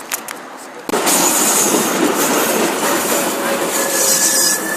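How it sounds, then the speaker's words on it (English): A tram crossing a bridge during a city morning commute, arriving with a sudden loud rumble of wheels on rails and a sustained metallic squeal, close and steady, with no talk over it. "as you can see up there on the bridge, there's a tram"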